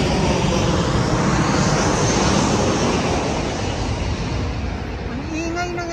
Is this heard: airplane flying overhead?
yes